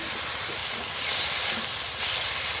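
Ginger-garlic paste, ground coriander, cumin, dried chilli paste and chopped tomato go into a pan of lightly fried onion for a fish kalia, giving a steady, loud hiss of sizzling that swells slightly midway.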